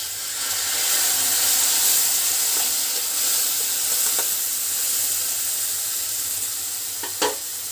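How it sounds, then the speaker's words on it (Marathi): Turmeric and onion in a pan sizzling and hissing after a couple of spoonfuls of water are added while making chapati chaat, a steady close frying hiss with a few sharp pops and a stir near the end. "अगदी थोडंसं 2-3 चमचे पाणी टाकायचं आहे।"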